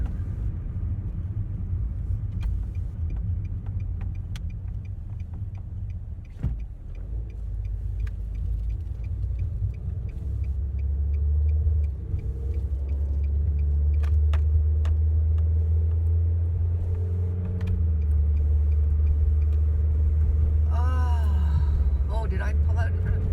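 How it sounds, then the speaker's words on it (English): A car rolls slowly along a road on a gray day toward a red light, its steady low engine and road rumble heard from inside the cabin, with a brief dip mid-drive and a faint squeak near the end. "I know I'm driving slowly"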